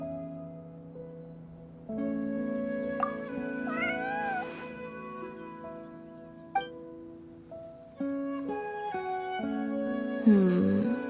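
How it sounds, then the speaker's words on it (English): Cat meows from a video game, Genshin Impact, sounding several times over steady background music, with short bright cries spread through the scene and a louder final call near the end. "Wait, you think the cat can lead us there?"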